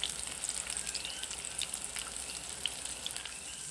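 Banana blossom fritter batter with tuna, egg, spices and cornstarch fries in hot oil, giving a steady crackling sizzle with scattered pops, close and fairly quiet.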